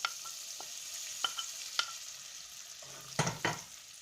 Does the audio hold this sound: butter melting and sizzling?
yes